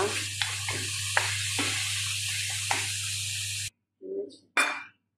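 Onion frying in a pan until browned, a steady broadband sizzle with a low electrical hum beneath and a few light clinks, then cutting off into quiet broken by two short scraping stirs.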